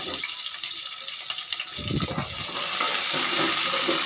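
Sliced small onions dropped into hot oil in a frying pan for a broad bean and small fish curry, giving a burst of loud sizzling that settles into a steady, close frying hiss.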